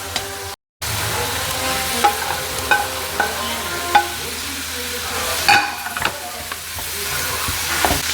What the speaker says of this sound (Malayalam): അതിനുശേഷം നമുക്ക് ബീഫ് ഇട്ട് കൊടുക്കാം.